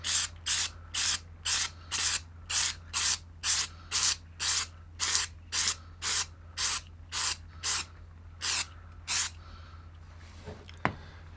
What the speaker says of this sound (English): Time to apply some spray adhesive to the backing material